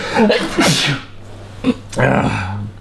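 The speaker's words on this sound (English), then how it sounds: "Sneezing coming." A loud, close sneeze bursts out after brief talking, followed by a quieter second burst and a low hum underneath.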